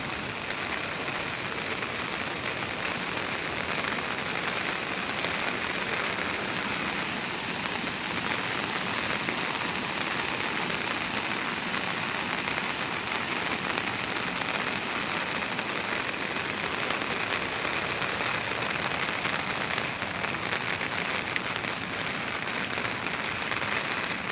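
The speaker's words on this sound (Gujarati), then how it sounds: "વરસાદ પણ તમે અત્યારે પણ જોઈ શકો છો એક ધારો જામ્યો છે" Steady heavy rain falls across the Gir region, a dense, unbroken wash of drops on surfaces that holds the same level from start to finish with no voices.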